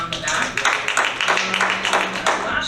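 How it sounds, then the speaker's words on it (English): Rotary club members in Sitka clap together in a meeting room, a steady dense patter of many hands throughout, fairly close and even, with murmured voices mixed underneath. "give yourselves a round of applause and pat on the back"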